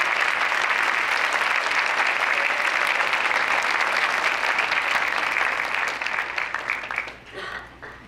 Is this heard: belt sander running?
no